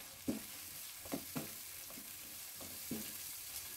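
Bitter gourd frying over high heat in a pan gives a soft, steady sizzle, broken by a few sharp utensil knocks and scrapes as the pieces are turned.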